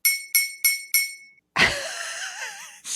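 A knife taps a glass four times in a quick, even rhythm, each ring bright and clear, followed by a louder, wavering ringing clatter and another tap at the end.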